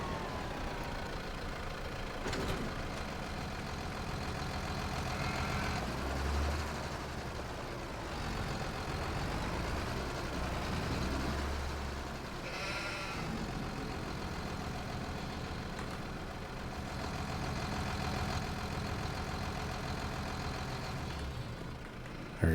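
A Landini tractor engine in a farming video game runs steadily at a low idle-like rumble, continuous and close, with slight shifts in pitch and no voices.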